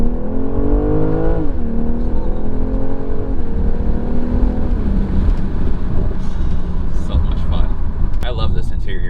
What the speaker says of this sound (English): in Sport Plus, you'll hear that exhaust a little bit more